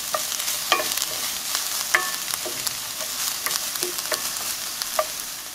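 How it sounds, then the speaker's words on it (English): Onions sautéing in a pan, a steady sizzle broken by repeated stirring clicks and scrapes of a utensil, close and without talking. "We're gonna saute our onions for 2 to 3 minutes just until they're translucent"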